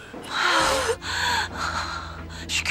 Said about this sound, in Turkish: Nefes alıyor.